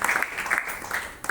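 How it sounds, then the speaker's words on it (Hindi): Audience applause at a Garuda Purana religious discourse at Shri Ram Mandir, Cotton Green, a brief burst of clapping with soft murmuring, swelling and dipping, with no voice over it. "उनके लिए एक बार जोरदार ताली हो जाए"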